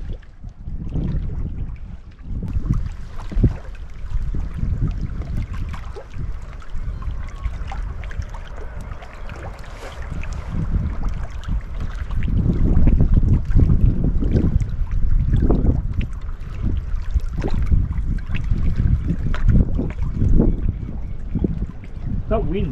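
Steady wind buffets the microphone on a lake while fishing for winter perch, a continuous low roar that swells louder midway, with faint water sloshing beneath it.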